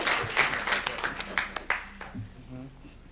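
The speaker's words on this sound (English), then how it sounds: "So give them a round of applause," A smaller audience at a Dayton Board of Education business meeting claps in scattered, uneven bursts that soon thin out. A voice comes in near the end.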